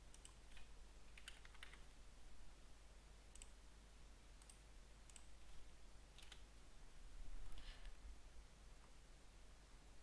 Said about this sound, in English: Keyboard.